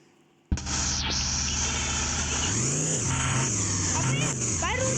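Steady loud road and engine hum inside a moving car begins abruptly and continues throughout, with a person talking over it.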